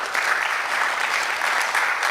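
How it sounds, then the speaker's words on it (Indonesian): An audience at an anti-narcotics event bursts into dense, steady applause, loud and close, filling the whole moment without a break. "Tepuk tangan dong."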